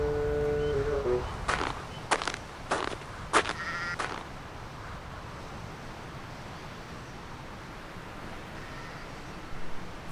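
Sheep bleat in the Trainz railway video game, several loud calls close together near the start, then a few short sharp bursts, fading to quiet wind-like background noise for the rest.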